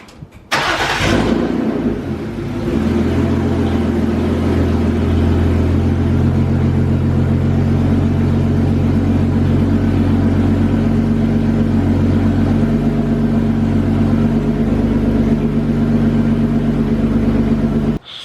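A BMW E36 engine cranks and catches, then settles into a loud, steady idle with a deep, constant rumble that carries on alone and close.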